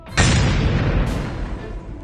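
A loud bomb blast during a royal procession in Delhi, with the viceroy riding an elephant: a sudden heavy boom that hits hard, then rumbles and decays over about two seconds, with a second sharp crack partway through.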